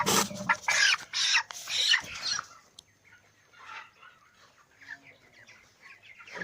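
Broiler chickens cluck and squawk loudly while being caught and weighed on a scale at about 22 days old, with a burst of agitated calls at first, then quieter scattered clucks.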